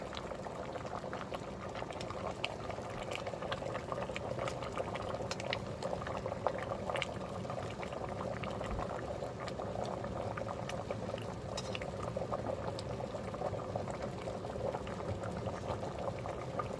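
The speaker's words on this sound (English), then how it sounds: "that's boiling big time" Liquid boiling hard and steady in a CanCooker Jr, a dense continuous bubbling and churning that goes on without pause, close by.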